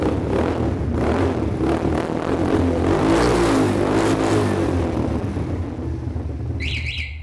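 Loud bike engine with factory-fitted exhaust revving hard, a continuous roaring drone swelling and falling alone, with a brief high chirp near the end.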